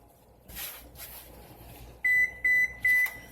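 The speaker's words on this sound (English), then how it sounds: "Oh, my oven. My oven," Three short, bright beeps from an oven, evenly spaced and close by, after some faint rustling in a quiet kitchen.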